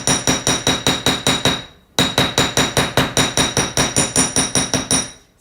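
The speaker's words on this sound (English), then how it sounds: "I'm just going to use my ball peen hammer and bench block to add some texture to these" Ball peen hammer texturing natural brass rectangles on a steel bench block: two runs of rapid, evenly spaced, loud ringing metallic strikes, close up, with a short pause between them.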